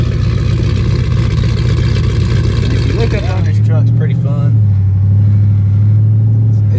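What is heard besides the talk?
cammed LS 6.0 swapped Chevy Colorado truck exhaust revving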